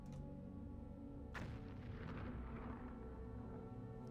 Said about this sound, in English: distant explosion was definitely not my fault